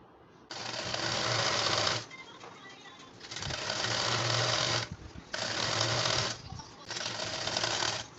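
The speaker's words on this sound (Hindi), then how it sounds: "दोनों पल्लों को इस तरीके से मिलाते हुए आसन पे सिलाई लगा लेनी है" A sewing machine stitches the seat seam of an Afghani salwar in four steady bursts of rapid whirring, each a second or two long, separated by short pauses as the fabric is repositioned.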